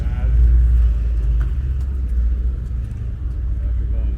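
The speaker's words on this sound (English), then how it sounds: "F40 coming down the pipeline here." Ferrari F40 sports car rolling in at a cars and coffee gathering, a deep low engine rumble close by and fairly loud, steady with slight swells, under faint background chatter.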